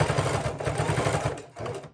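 Close sewing machine stitching in short bursts to lock the first stitches on a hook-and-loop seat belt cover strap, a rapid rattling hum that slows and pauses briefly before one final quick run.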